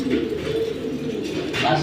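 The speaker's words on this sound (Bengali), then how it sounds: "নর সিলভারের জগতে মানে অনেক বড় অনেক বড় কবুতর কবুতরগুলা" Large Military Silver pigeons coo in a loft, a low, steady throaty murmur running throughout the short moment, with a brief brighter call near the end.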